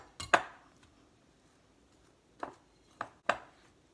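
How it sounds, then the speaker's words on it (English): Sharp, dry chopping strikes as a flour mixture is cut together for a pecan pie crust: a double hit near the start, a long pause, then three quick knocks close by in a quiet kitchen. "we're going to cut that in and get flour all over the place"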